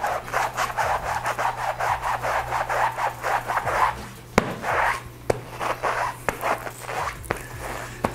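The wet palm of a goalkeeper glove is rubbed in quick, rhythmic back-and-forth strokes, close and fairly loud, giving a scratchy swishing sound. A few sharp taps break in during the second half.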